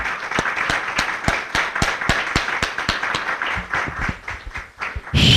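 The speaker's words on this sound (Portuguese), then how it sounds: "Vamos dar uma salva de palmas para essa palavra?" Congregation applauding at a church service, steady dense clapping from many hands throughout, fairly loud and continuous, with a voice breaking in at the very end.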